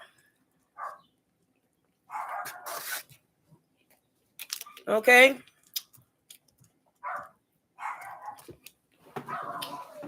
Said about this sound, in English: I need to go check on my little doggy